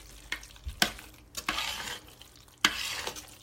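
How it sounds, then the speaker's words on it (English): A spoon stirs a roux with milk in a pan, with several scraping strokes and soft thuds against the metal over a low sizzling hiss. The sound is close and there are no voices. "I'm gonna stir it and add more milk if I feel like I need it"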